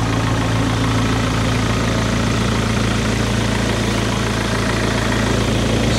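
A 2013 Merlo P55.9 CS telehandler with a Deutz engine idles steadily and close by, a constant low rumble with a stable hum and no speech over it.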